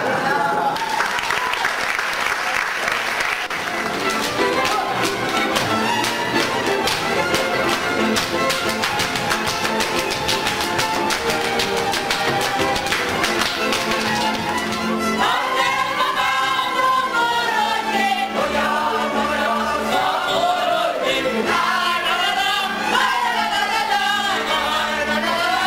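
An audience applauds after an old song at a concert, with sustained dense clapping filling the hall for a long stretch, loud and close, and crowd noise and voices mixed in underneath.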